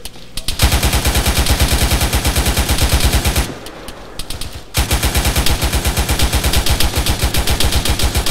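Sustained rapid automatic gunfire in the military shooter ARMA 3, loud and close, a dense rhythmic burst that stops briefly and then resumes just as heavily, with no talking.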